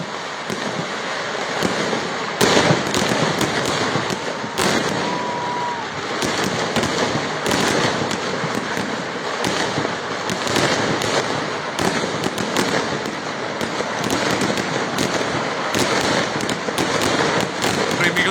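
Sample fireworks display by Paramekkavu Devaswom at the Thrissur Pooram festival, with dense continuous crackling and repeated sharp bursts, loud and sustained with crowd noise throughout.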